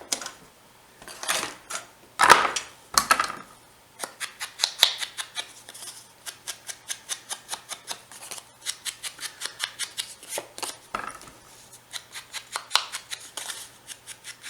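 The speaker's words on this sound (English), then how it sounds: "all we have to do is ink the edges here" Paper edges for a mini album are rubbed against an ink pad in quick, repeated rasping strokes, a close, dry swiping rhythm that runs in bursts with short pauses and no talking.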